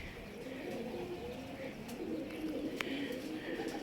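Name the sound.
pigeon cooing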